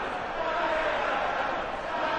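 A packed darts crowd at the Winter Gardens in Blackpool during the 2015 World Matchplay gives off a continuous, even roar of murmuring and chatter, heard at a distance.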